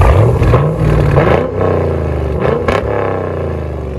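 Chevy Camaro SS with a 6.2L LS V8 on straight pipes or a Borla ATAK cat-back exhaust, revving loud and close with a deep rumbling roar that swells, dips and settles into a throaty idle.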